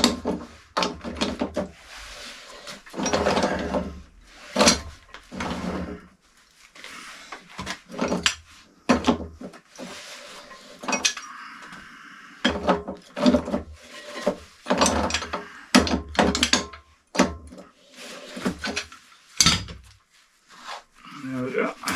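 A Stillson pipe wrench works a big castle nut on a DIY trailer build, giving repeated close scraping, rubbing and clanking bursts of metal, with a voice talking at times between them.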